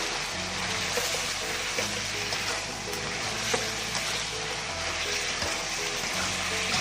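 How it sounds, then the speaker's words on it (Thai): Crispy pork frying in hot oil for a Thai stir-fried kale dish: a loud, continuous close sizzle and crackle with occasional small pops and the clink of a stirring utensil, holding steady throughout with no talking. "นี่ยังไม่ได้ทอดรอบสองนะฮะ นี่ก็ทอดอยู่นะฮะ"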